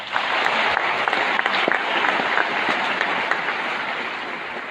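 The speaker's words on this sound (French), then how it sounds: "Et je voudrais qu'on les applaudisse" A conference audience at a Wikistage talk in Algiers applauds a team, dense sustained clapping that fills the room and stays loud for the whole stretch before easing slightly at the end.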